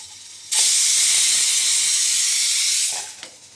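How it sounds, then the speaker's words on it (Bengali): A pressure cooker cooking dal releases a loud, steady jet of hissing steam that starts abruptly, holds for about two and a half seconds, then tapers off, with a brief faint knock afterward. "ডালটা হচ্ছে কুকারে।"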